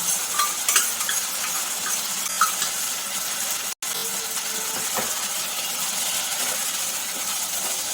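Tomatoes, green chillies and spice paste fry for a paneer curry with a constant, fairly loud sizzling hiss and light scattered clicks, broken by one brief dropout midway, with no voices.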